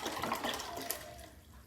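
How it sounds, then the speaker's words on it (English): Malt vinegar poured over onions, heard as a close, splashing liquid stream that gurgles briefly and then thins out. "I'm just pouring this vinegar in."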